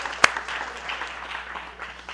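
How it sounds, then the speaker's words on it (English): A congregation at a live-streamed service gives a hand clap, opening with one sharp close clap and then settling into a soft, diffuse patter of many hands that fades without voices over it. "Give Mr. Yahuwah another hand clap"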